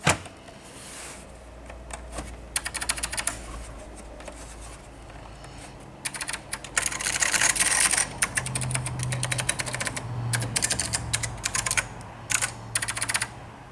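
Typing on a MacEffects Apple IIe replacement keyboard: bursts of crisp, clicky keystrokes, close and fairly quiet, coming in irregular runs with brief pauses and a faint hum underneath.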